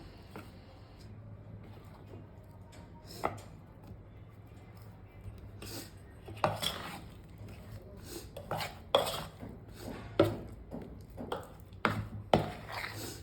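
Spoon scrapes and clinks against a bowl while sliced plantain and chilli are stirred through bajji batter, with soft irregular taps that grow busier toward the end over faint background hum.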